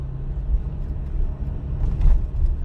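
A car moving along a driving exam route, with a steady low engine and road rumble close by, holding even throughout with no voices.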